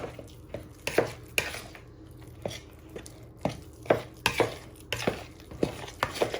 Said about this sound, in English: But you're going to give it a good stir.